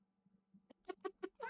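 A cat in a video game making a quick run of short, close meows and chirps, faint at first and then several sharp calls in a row.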